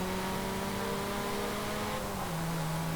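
A 2022 MG MG7 in Forza Horizon 5, front-wheel drive with plenty of torque, pulling away from a standstill; the engine drones in a steady strained tone, then its pitch dips briefly as it shifts up.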